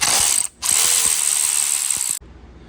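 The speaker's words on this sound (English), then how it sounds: "Now you're going to take your E30 socket and start loosening up." A ratchet fitted with an E30 socket loosens valve cover bolts on a Chevy Trax, a rapid, loud mechanical clicking up close that pauses briefly and then continues before stopping abruptly.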